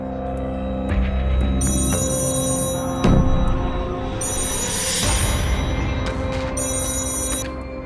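A telephone rings in repeated bursts, a bright electronic trill sounding several times with short gaps, close and clear over a low background hum.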